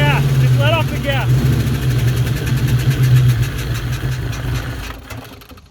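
An abandoned Ford Mustang GT's engine runs at a steady idle after being given gas, loud and close, with people talking over it before it tails off.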